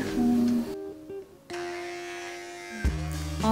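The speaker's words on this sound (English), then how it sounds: "All ready to start cutting and trimming the edges of the hair." Electric clippers buzz steadily while trimming the edges of short 4C hair, a close, continuous hum that drops out briefly, then resumes with slight changes in pitch as the blade moves along the hairline.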